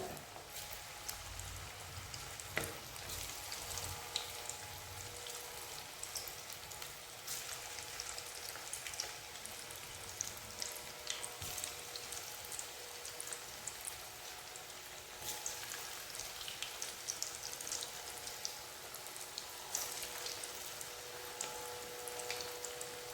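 Pori 65, a spiced puffed rice snack, frying in oil over a medium flame: a dense, continuous, fairly faint crackling sizzle that stays steady throughout, with no talk.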